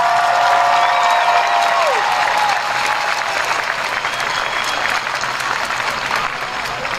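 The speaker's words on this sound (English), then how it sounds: "Let's give them a hearty round of applause" A hearty round of audience applause at an outdoor school commencement ceremony, loud and sustained from many hands and slowly thinning, with a brief whistle-like tone near the start.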